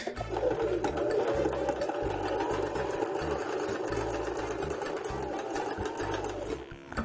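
A domestic sewing machine stitches fabric steadily at an even speed, its motor humming with a rapid mechanical rhythm close by, alone, easing off at the very end.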